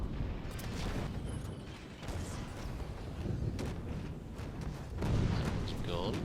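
Howitzer artillery firing in a Toy Soldiers battle, set in the Kaiser's Battle of Operation Gneisenau, heard as repeated booming shots and a rumbling barrage with a voice talking over it throughout.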